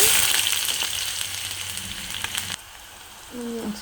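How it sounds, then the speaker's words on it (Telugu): Onions frying in oil with mustard seeds and cumin in a pan, a loud crackling sizzle close up that drops abruptly to a quieter hiss partway through. "ఆయిల్ వేసాక ఆవాలు జీలకర్ర వేసి తర్వాత ఇప్పుడు ఆనియన్స్ వేసేద్దాం"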